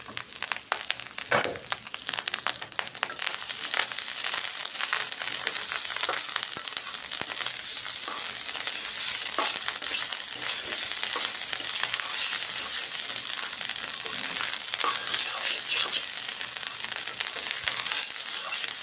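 Chilies sizzle in hot oil in a pan for a Bengali breakfast, a steady close frying hiss with crackles and pops throughout, louder after the first few seconds, with no talk.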